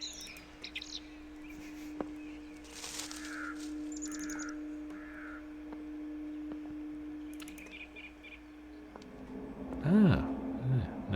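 Crows cawing above a door in The Lost Crown video game: a few scattered, hoarse calls over a quiet ambient hum, with a louder burst of calls near the end.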